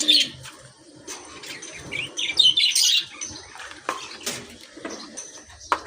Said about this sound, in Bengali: আমার পাখিগুলোকে আগে খাবার দিই